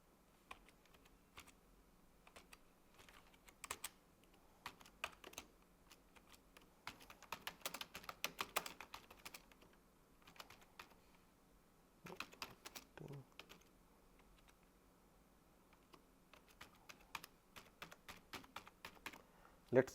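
Code is typed on a computer keyboard for a JavaScript lesson, with soft, quick clusters of key clicks in irregular bursts and pauses, faint and close, with no one talking.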